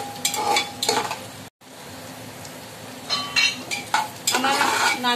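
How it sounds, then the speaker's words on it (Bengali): Grated coconut and peanuts fry in hot oil, sizzling steadily while a spoon scrapes and stirs in bursts against the pan, with a brief silent gap partway through. "নারকেলটাকে ভালো করে ভেজে নিতে হবে। আর আমি কটা বাদাম দিয়ে দিচ্ছি।"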